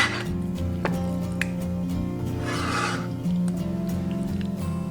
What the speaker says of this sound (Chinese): 准备几块老豆腐切片